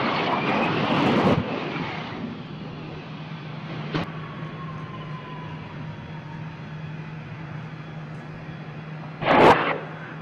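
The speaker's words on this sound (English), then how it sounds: "The plane continues making its way down the runway with flames spewing out of the underside." Harrier jet aircraft rolling down a runway with flames pouring from its underside after the pilot ejected: a steady engine drone with a loud burst near the start, a short sharp crack midway and another loud burst near the end.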